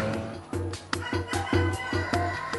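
Cemani rooster clucking, a run of short repeated throaty clucks in an irregular rhythm, close and fairly loud, with farm background noise underneath.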